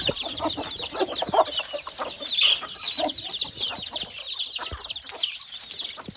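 Chickens clucking busily as they peck at paddy grain in a farmyard, a dense, continuous chatter of overlapping clucks and short calls at close range, with no talk.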